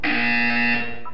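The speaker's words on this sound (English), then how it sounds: "When you hear the buzzer, look down at the floor." A loud, steady electronic buzzer from the Portal 2 video game sounds alone for about a second, a harsh sustained tone with bright overtones that cuts off at the end.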